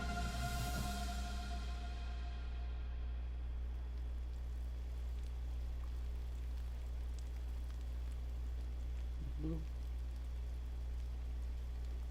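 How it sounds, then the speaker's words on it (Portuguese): Steady rain falls in the video game GRIS as a constant soft wash under a low drone, with a brief chime near the start and faint scattered drips. "Agora, avançando em nosso caminho, somos recebidos por uma chuva constante"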